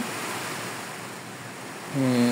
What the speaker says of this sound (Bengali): এই যে কি জোরে জোরে হাওয়া বয়ে যাইতেছে